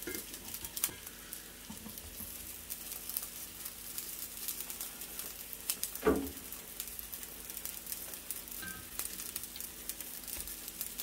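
Naked Glory plant-based sausages frying in fat in a pan, a soft steady sizzle with faint crackle and a brief clatter as they are rolled over, with no talking.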